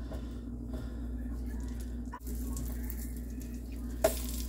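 Blueberry pancakes fry outdoors on a February morning, a faint steady sizzle under a low continuous hum, broken by a soft scrape and a brief sharp click near the end.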